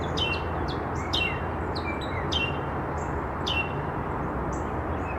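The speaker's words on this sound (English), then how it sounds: "Do you hear all the birds?" Several birds chirp and tweet in quick, repeated calls over a steady outdoor hiss, moderately close and clear with no talking.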